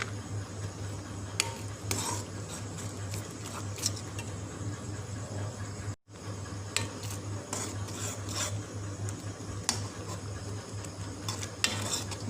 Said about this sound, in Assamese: পিঁয়াজৰ মই যিখিনি ভাজি থৈছিলোঁ সেইখিনি দি মই ইয়াত মিক্স কৰি লওঁ